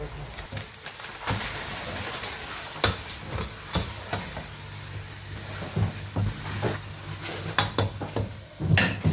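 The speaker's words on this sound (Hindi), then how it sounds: "इसके साथ हम चिकन को अच्छी तरह से फ्राई कर लेंगे" Chicken frying in a pan with spices and turmeric powder, a steady sizzle and hiss with scattered stirring scrapes and clinks of utensils against the pot, close and continuous throughout.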